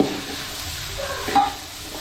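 Soybean chunks being mixed into vegetable biryani in a pan, a soft continuous stirring scrape with a faint sizzle underneath, one slightly louder scrape midway, no talking.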